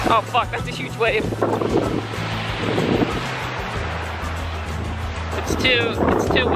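Strong wind buffets a microphone on a cold beach in Fort Lauderdale, a steady roaring rumble over surf, with a person talking intermittently through it.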